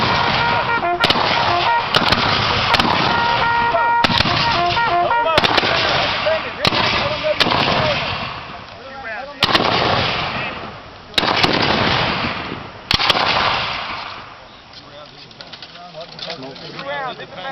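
Rifles fire one after another in a Civil War reenactment volley by file at an encampment, a rapid string of loud booming shots with rolling echoes between them, thinning out toward the end.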